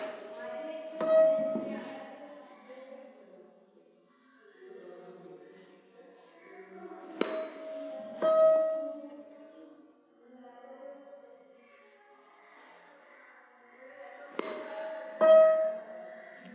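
A tuning fork for a sonometer physics practical is struck with a hammer three times, each strike giving a sharp metallic clang that settles into a clear, sustained ringing tone and slowly fades, with quiet talk in between.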